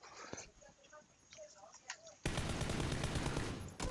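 Another player opens fire in a video game, loud rapid continuous gunfire bursting in after quieter moments of movement and speech, sustained to the end.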